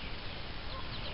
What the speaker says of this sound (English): There's our laying hens and a rooster in here.